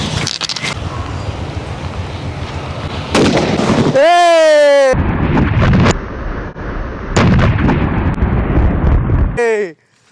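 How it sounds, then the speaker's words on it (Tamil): Large paper bomb firecrackers from Sivakasi, about half a kilo each, set off for Diwali, bursting in loud, sharp blasts with crackling debris and whistling shells nearby, separated by brief pauses. "1/2 கிலோ வெயிட் இருக்குது. பேப்பர் பாம் வெடி பேரு."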